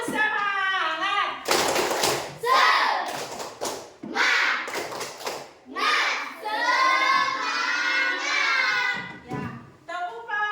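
Classroom of sixth-grade children doing a rhythmic spirit clap in Indonesian, sharp bursts of clapping alternating with loud chanted children's voices, close and lively.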